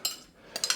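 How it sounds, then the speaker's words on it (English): Eggs being whisked in a pot, a few light metallic clinks and scrapes of the whisk against the pot, close by and separated by a short quiet gap. "I'm gonna try and whisk it all up in the pot here."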